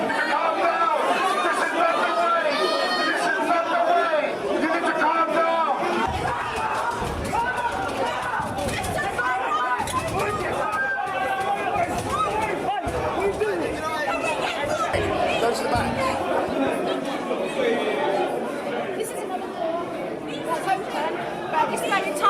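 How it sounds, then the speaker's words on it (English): A large, agitated crowd gathered outside the council chambers of Kensington and Chelsea executives, producing a dense, continuous roar of overlapping voices and chatter with occasional thumps, sustained and loud throughout. "There is a very angry crowd out there and they want to get in again."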